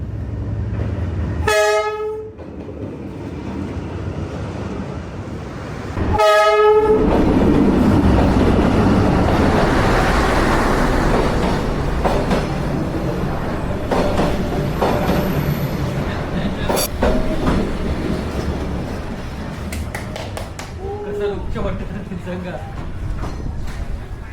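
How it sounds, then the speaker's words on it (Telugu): A train rolls along Hanoi Train Street in Vietnam, the track squeezed between rows of cafés. Two long horn blasts sound close by, then a loud, sustained rumble of the passing cars fills the scene, with voices underneath. "ఇప్పుడే ట్రైన్ పాస్ అయింది, చూసారు కదా."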